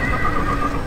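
A horse whinnies in the Age of the Ring strategy game, a steady, close neigh with light hoof clatter, heard alone without talk.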